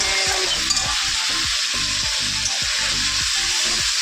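Paneer curry with potato and pointed gourd sizzles steadily in a pan, with a bright continuous hiss and a regular series of stirring scrapes and thuds, close up and with no talking.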